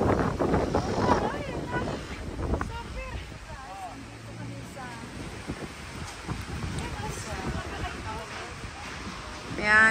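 Strong wind blows at a seaside resort in Batangas, buffeting the microphone in loud, uneven gusts while a voice talks faintly at times.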